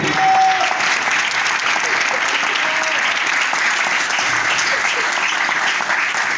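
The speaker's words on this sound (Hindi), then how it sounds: "जोरदार तालियां इस कलाम के लिए" A church audience at a Christian sermon on the Bible breaks into strong applause, a steady, dense roar of clapping from many hands that holds evenly throughout, with a brief tonal sound near the start.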